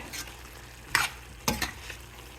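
Chicken chukka seasoned with rock salt sizzles softly in a pan while being stirred, with a few scraping strokes of the spoon cutting through the low, steady frying hiss.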